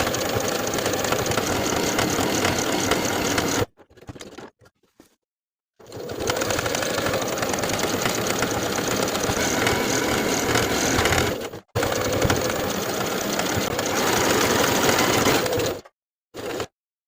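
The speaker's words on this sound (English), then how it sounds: "I'm going to top stitch twice, first edge stitching along the side and bottom edges" A sewing machine top-stitches a denim skirt pocket in loud, rapid, steady whirring bursts, broken by short pauses and faint handling noises between runs.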